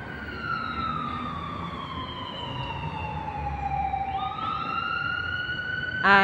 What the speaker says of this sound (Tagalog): Ang ingay, ambulansya.